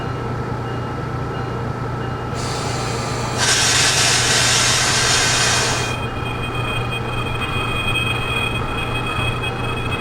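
A simulated Pennsylvania Railroad train on the Washington DC to New York City route rolls with a steady low rumble, and its wheels squeal loudly for a few seconds midway.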